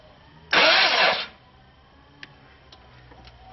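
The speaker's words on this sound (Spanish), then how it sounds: "Y daré un poco de marcha hasta que sienta que sopla por mi manguerita." A car engine's starter cranks in one loud, close burst of under a second during a compression leak test, then a few faint ticks follow in a quiet workshop.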